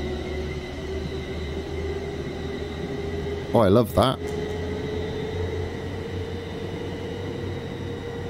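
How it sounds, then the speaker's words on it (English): A Class 350 EMU electric train in Train Simulator 2019 hums steadily with a low rumble and electrical whine while pulling away, and someone speaks briefly over it partway through. "Let's see if this sounds like the train pulling away."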